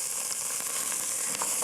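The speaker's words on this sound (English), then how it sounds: "The magic with frying the tomato sauce before the onion" Tomato sauce fries in a pan as the base of a chickpea curry, giving a soft, steady sizzle heard up close with occasional small pops and no talking.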